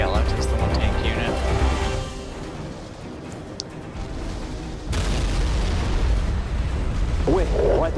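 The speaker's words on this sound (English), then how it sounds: "missile barrage here" Missile barrage explosions in the EndWar Online video game, set in Paris: loud, sustained booming rumbles with a sharp break midway, and dense blasts continuing throughout.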